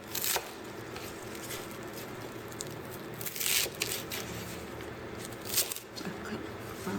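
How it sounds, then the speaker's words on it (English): Green onion, bell pepper and shallot are cut with a knife, producing a few sparse, faint chopping strokes over a quiet kitchen background. "Now let's start to cut vegetable."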